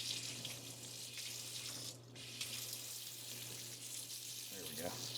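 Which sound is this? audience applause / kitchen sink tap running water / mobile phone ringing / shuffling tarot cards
kitchen sink tap running water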